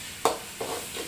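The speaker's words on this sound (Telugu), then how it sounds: "కలబెడతా ఉంది" Egg bhurji sizzles in a pan while being stirred, with two or three distinct scraping strokes over a steady frying hiss, close up and alone.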